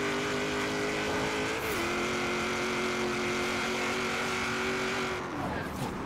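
A 1956 Ford F100 pickup engine in Forza Horizon 3 holds a loud, steady high drone at speed, dips in pitch once midway, then winds down near the end, close and continuous without talk.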